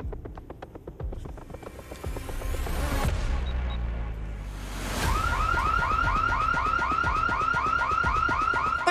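An alarm going off inside a hospital operating room, heard as a loud, continuous electronic wail that sweeps and pulses. Partway through it switches to a faster repeating warbling pattern, with no talking over it.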